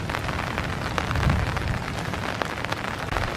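Steady rain falls harder over a foggy park on a February morning, a dense, continuous hiss of drops close by with small patters against surfaces and no voices.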